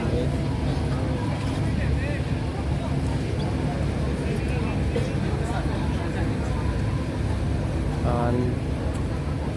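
Dinner cruise boat on Thailand's Chao Phraya River, with a steady engine and water rumble close by under a busy crowd of chatter throughout.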